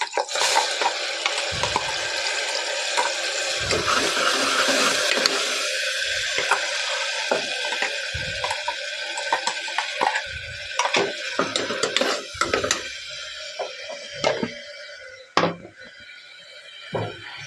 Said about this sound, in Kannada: ಸ್ವಲ್ಪ ಮಸಾಲೆ ಹಸಿ ವಾಸನೆ ಹೋಗೋವರೆಗೂ ಫ್ರೈ ಮಾಡಿ ಅರಿಶಿನ ಹಾಕ್ತೀವಿ